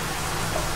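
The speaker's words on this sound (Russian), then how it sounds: "И у нас дождина." Steady rain falls outdoors in a continuous, even hiss with soft patter on surfaces, with no voices.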